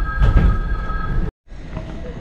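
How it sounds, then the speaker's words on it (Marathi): A first-class passenger train pulls into a station around two at night, a loud low rumble with a steady tonal hum that cuts out briefly before a quieter rumble resumes. "ही आमची ट्रेन बघा अशी आहे."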